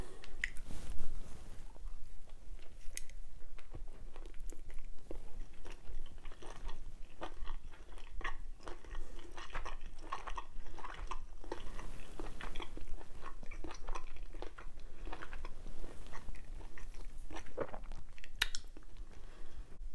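Close, soft chewing and biting of steamed pork and shrimp dumplings with garlic and ginger, moist squishy crunches repeating in an irregular rhythm for a long stretch, with no talking.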